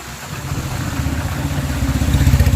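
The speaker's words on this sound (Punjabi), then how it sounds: "ਮੇਰਾ ਮੋਟਰਸਾਈਕਲ ਦੀ ਆਵਾਜ਼ ਵੀ ਤੁਹਾਨੂੰ ਦਿਖਾਈ ਦੇ ਰਹੀ ਹੋ" A motorcycle engine idling nearby on a flooded street after rain, a steady low, pulsing rumble that grows slightly louder toward the end.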